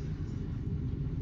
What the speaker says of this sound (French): Ah non, c'est un avion.